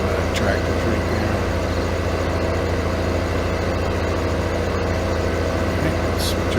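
A tractor engine idles in a farming video game, a loud, steady mid-pitched rumble that runs without a break and sits close up.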